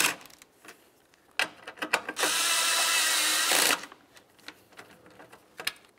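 A ratchet spins in quick clicking bursts while bolts are snugged down during a 2012-2017 Toyota Camry radiator replacement, with scattered metallic knocks and a steady whirring stretch in the middle.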